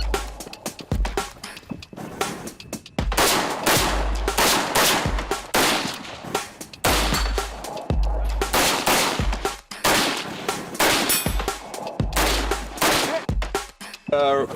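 A rifle with a muzzle brake fires repeatedly at steel plates, loud close shots in quick irregular bursts with short gaps, and a voice briefly audible among them.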